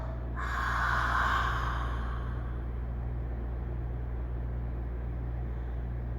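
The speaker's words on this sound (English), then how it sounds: "Exhale this one out your mouth." A single long breath is pushed out through the mouth during a floor stretching routine, a soft whooshing exhale that swells and fades into a steady low background hum.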